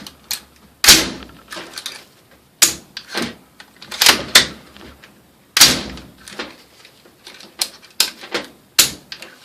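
A Damage Industries carbine-length chrome silicone buffer spring cycling inside a carbine buffer tube, a series of sharp metallic clacks and thumps at irregular intervals, close and fairly loud with no talk.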